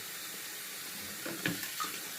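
Tap water runs steadily into a shave bowl, a faint continuous hiss with a few small splashes and knocks near the end.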